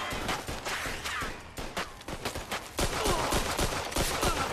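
Pistol gunfire in the video game Mafia 2, a rapid run of loud, sharp shots in quick irregular succession, closely spaced and punchy, with a brief lull midway before the shooting resumes.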